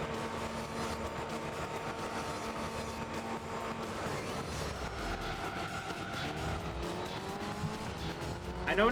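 An F688/S race car in Gran Turismo 3 on Tokyo Route 246 drones through its engine with shifting gear pitch, and a short squeal of tires rises at the end, loud and steady throughout.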